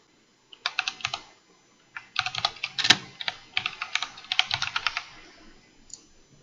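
Fingers type on a computer keyboard in quick clustered bursts of crisp key clicks, close and clear, separated by short pauses, with no voices.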